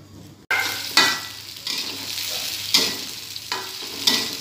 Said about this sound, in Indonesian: Setelah minyak dipanaskan, masukkan bumbunya dan digoreng.